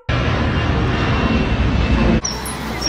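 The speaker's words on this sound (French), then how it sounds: "C'est notre avion." An airplane's engines make a loud, steady roar up close that cuts off abruptly near the end, leaving quieter background sound.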